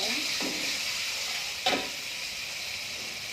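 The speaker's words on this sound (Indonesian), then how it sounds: "Ini kita tumis dulu sampai harum." Tamarind water and sugar stir-fry in a pan, giving a steady bright sizzle throughout with a couple of brief scraping stirs. Nobody speaks over it.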